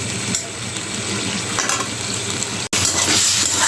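Cucumber being sautéed in a pan for a hilsa roe curry, a steady broadband sizzle and stirring hiss that runs throughout with a brief dropout near the end, no talk.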